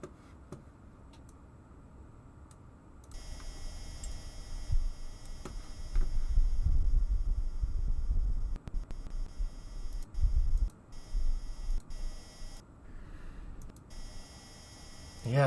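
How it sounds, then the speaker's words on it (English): Surface microphone recording from the Perseverance rover on Mars: a faint, low, gusty rumble of Martian wind that swells and fades over several seconds, with dry, muffled texture and little else. "First sound recorded on Mars."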